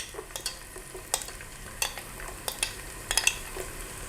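Spring onion whites stir-frying with golden garlic: a light sizzle under quick, irregular scrapes and taps of a spatula against the pan, close and fairly quiet, with no talking.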